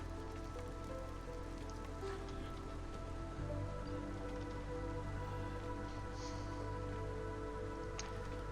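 Steady rain from the storm in the colony-building game Against the Storm patters and hisses throughout, a dense continuous wash of droplets with a low rumble underneath, heard alone without talk.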